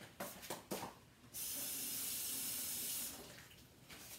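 A knife rinsed under a running kitchen tap while cooking salmon croquettes, a faint steady hiss of water splashing into the sink for a couple of seconds between quieter clinks and handling sounds.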